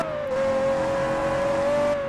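Car engine revving hard in a Roblox driving game, a loud sustained whine holding a steady tone for about two seconds with tire noise underneath and no talk.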